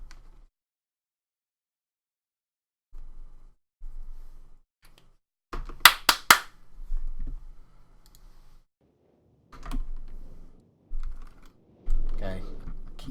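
A computer mouse clicks while playing realMyst: Masterpiece Edition, quiet sharp clicks arriving in short scattered bursts separated by near silence.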